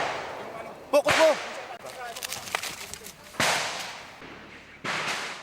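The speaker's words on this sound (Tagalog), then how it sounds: "Matindi ang palitan ng mga putok." Gunfire from an armed encounter in Basilan rings out in sharp, scattered cracks and a few heavier bursts, with a voice calling over the shots and rustling between them.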